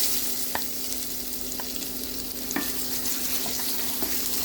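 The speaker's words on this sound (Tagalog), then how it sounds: "Once the oil hot enough, let's fry our ginger." Ginger frying in hot oil, a dense continuous sizzle close up, broken by a few faint clicks and pops with no talking.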